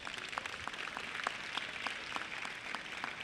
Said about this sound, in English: Give your coaches a round of applause